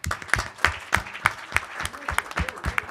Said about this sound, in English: So everyone, maybe another round of applause.